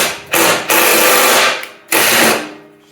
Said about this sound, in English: I'm using the electric impact.